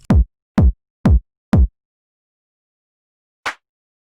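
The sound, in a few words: tech house kick drum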